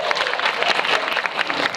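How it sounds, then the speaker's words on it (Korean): Applause from an audience at a film screening Q&A with actors, a dense burst of hand clapping filling the room for under two seconds, steady and fairly loud with no talking over it. "박수 한번 주세요."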